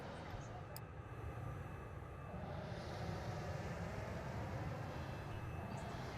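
A jet aircraft in the naval video game World of Warships roars steadily, a broad whooshing engine drone that swells slightly and holds loud, with faint voice in the background.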